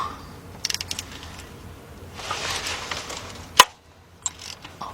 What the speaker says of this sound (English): I'm going to use my 3/8 drive swivel ratchet